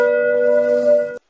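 A single bell chime used as a notification bell sound effect, struck once and ringing steadily with clear tone for about a second before cutting off abruptly.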